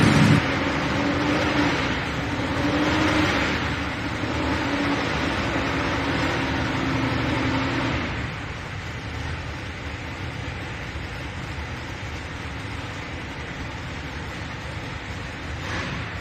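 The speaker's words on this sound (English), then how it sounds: "Now 598 cubic inches of Chevrolet horsepower here, running on racing gasoline" Tractor pulling engine, a 598 cubic inch Chevrolet on racing gasoline, roars in a loud sustained rumble that eases slightly partway through, heard at a distance across an outdoor pulling track.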